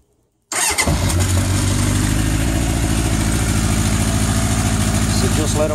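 A 1981 Honda CB750K motorcycle engine starts abruptly after a moment of silence, then settles into a loud, steady warm-up idle with a rapid, even putter.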